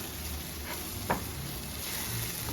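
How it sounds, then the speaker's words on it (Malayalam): Okra tossed with spice powder and ground pepper in a frying pan, giving a low steady sizzle with a single brief scrape of the stirring spoon midway, no voices. "നമുക്ക് ഇതെല്ലാം കൂടെ നന്നായിട്ടൊന്ന് ഇളക്കി കൊടുക്കാം"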